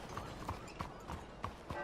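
Steady clip-clop of a white horse's hooves in Red Dead Redemption 2, about five evenly spaced thuds over a low outdoor rumble, close and moderately loud with no talk.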